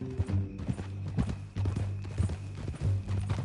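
Horse hooves clip-clop in Red Dead Redemption 2 as a steady, close trotting rhythm over a low tonal game backdrop, with no talk.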